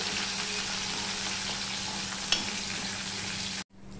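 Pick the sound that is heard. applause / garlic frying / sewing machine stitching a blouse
garlic frying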